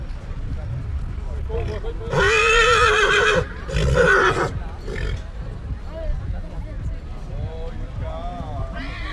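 Yearling horses shown in order at a harvest festival horse show in Częstochowa, one whinnying in two loud bursts, a long call followed by a shorter one, heard over crowd murmur and a distant public-address voice.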